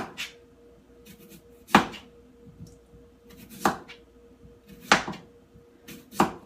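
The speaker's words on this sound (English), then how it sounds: "I thinly slice them." A knife cuts thin slices of sweet potato on a board in a quiet kitchen, giving five or six sharp, separate chops a second or so apart.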